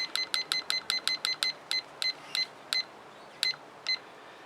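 Kitchen timer beeping in a backyard art studio, a rapid run of short sharp electronic beeps that slows and spaces out, close and clear with no talk.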